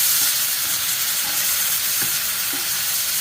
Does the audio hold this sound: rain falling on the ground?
no